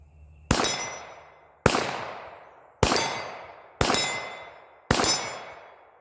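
Five sharp metallic clangs from Glock 34 pistol shots striking steel targets, evenly spaced about a second apart, each ringing out and decaying before the next, with no talking.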